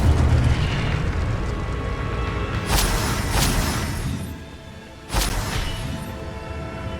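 Fire spells cast in Hogwarts Legacy, a video game, produce several sharp bursting blasts over a continuous roaring effects bed, with one louder whoosh-boom near the end.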